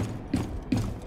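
Mechanical ratcheting clicks of barricades being fixed into gaps in the video game Rainbow Six Siege, three short bursts in steady rhythm, close and moderately loud with no talk.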